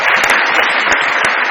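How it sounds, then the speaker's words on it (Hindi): A studio audience applauds on a Pakistani television comedy show, a dense, even wash of clapping that stays loud throughout. "बहुत सारी तालियां आफताब साहब के लिए"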